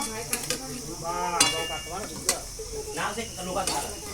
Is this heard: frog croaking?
no